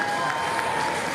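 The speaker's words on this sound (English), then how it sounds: "Big round of applause for Tony Lee Sr." Spectators at the 2023 collegiate national powerlifting championships give a round of applause, a dense, even clatter of many hands filling the short stretch at steady loudness, with a faint crowd murmur beneath.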